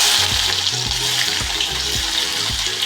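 Two onions fry in a hot pan, a loud continuous sizzle with rhythmic stirring scrapes every half second or so, close up and without talk.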